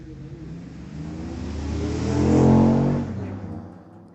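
Two black Chevrolet cars race down a drag strip in a junior shootout, their engines roaring as they pass close by, swelling to a loud peak and then fading away.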